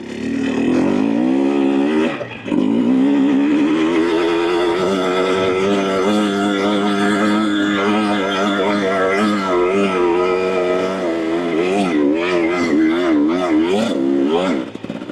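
A 2024 Husqvarna TE250 TBI dirt bike fitted with an FMF Turbine Core 2.1 exhaust and a new plug revs loudly and steadily, its two-stroke note rising and falling through repeated blips with a brief dip near the start.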